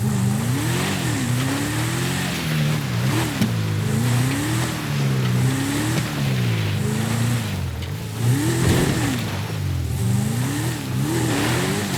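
A super car driven up a mountain road in the video game GTA V, its engine droning steadily and rising and falling in pitch through repeated gear shifts, loud and continuous with no voices.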